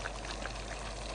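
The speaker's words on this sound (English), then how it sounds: "I have some boiling water here, and I'm gonna just pour a little bit to the side." Boiling water pours in a brief, continuous splashing stream into a cooking pot of Jamaican curry chicken, heard close and alone.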